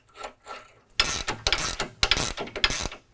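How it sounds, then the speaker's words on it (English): Ratchet with a 3/4 socket tightening the sway bar end link bolt and nut on a 2018 Jeep JL 2-door, heard as close, loud bursts of rapid clicking in several strokes after a brief quieter lead-in. "We're going to be tightening this up with 3/4."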